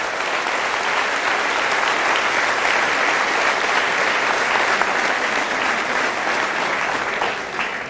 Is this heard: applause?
yes